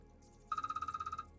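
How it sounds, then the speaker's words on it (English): A phone alarm rings with a fast, pulsing electronic trill of about a dozen rapid beats, clear and moderately loud over a quiet room tone and stopping after under a second. "Oh, that's my alarm."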